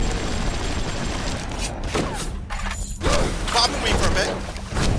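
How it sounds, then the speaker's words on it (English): Rapid automatic gunfire from a machine gun in the BioShock video game, steady and loud throughout with clanking mechanical noises mixed in, and brief pauses between bursts. "Get out the freaking machine gun!"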